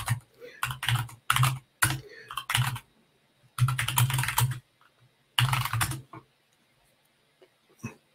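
Computer keyboard typing at a tech conference talk comes in quick bursts of clattering keystrokes separated by short pauses, close and fairly clear.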